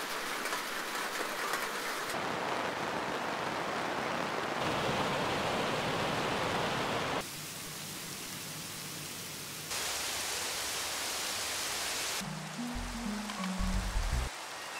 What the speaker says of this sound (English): The mod changes the sounds playing from the rain depending on the materials in the area.